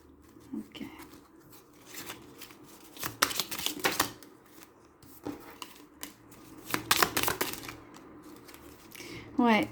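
A small deck of French love-themed oracle cards is shuffled and drawn by hand, giving soft papery riffles and slides in several brief bursts, close up, with quiet gaps between them.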